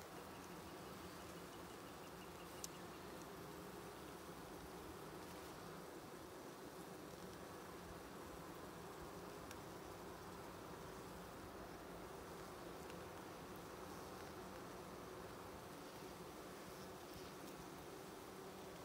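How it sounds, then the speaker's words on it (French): Steady, dense buzzing of many honeybees up close at a hive entrance in early May in Quebec, a continuous droning hum with no voices. "Les abeilles qui rentrent et puis qui sortent."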